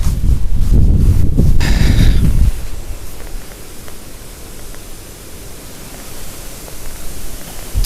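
Strong wind buffets the microphone outdoors while fishing, with heavy low rumbling at first, then settles into a steady rushing roar.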